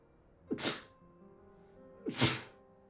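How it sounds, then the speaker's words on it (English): Two sharp sneezes about a second and a half apart, each a quick inhale followed by an explosive burst, close to the microphone in a quiet room. "Hold on, I gotta sneeze."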